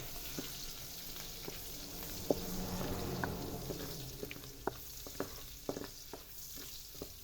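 Ginger sizzling in rendered chicken-skin fat in a pan, a steady moderate frying hiss broken by scattered sharp pops and crackles, with the odd utensil tap.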